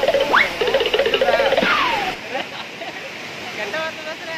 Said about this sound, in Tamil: அதில் ஒரு அருவியில் தான் நாங்கள் இங்கே இருக்கோம்.